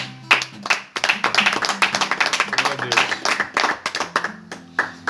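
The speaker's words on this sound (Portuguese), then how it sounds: "Vamos aplaudir o Senhor." A church congregation claps together in quick, uneven bursts of applause, with voices speaking over the clapping.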